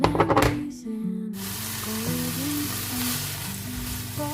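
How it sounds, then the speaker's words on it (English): About five streaky bacon rashers sizzle and fry in a pan for a beef and bacon bake, a steady, dense crackle that starts loudly and holds constant, with soft music-like tones underneath. "I've got about 5 bacon rashers, the streaky kind, and we're just gonna fry them."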